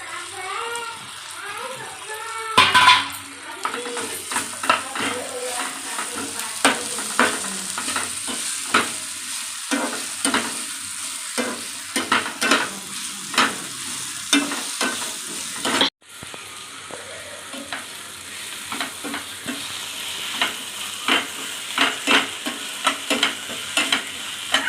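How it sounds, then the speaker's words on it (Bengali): Chopped okra tossed into a hot pan for an okra-and-egg fry, sizzling steadily while a spatula scrapes and clacks against the pan in irregular bursts. "এবারে আমি কেটে রাখা ঢেঁড়সগুলো দিয়ে দিচ্ছি।"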